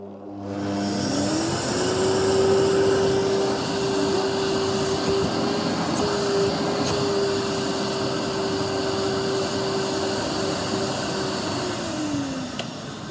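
A Libelle cleaning robot vacuum switches on, and its motor whines up to a steady pitch. The motor runs evenly for about ten seconds before winding down near the end, loud and close with no voices.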